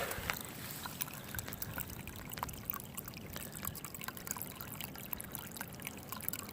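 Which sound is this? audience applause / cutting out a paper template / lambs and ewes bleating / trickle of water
trickle of water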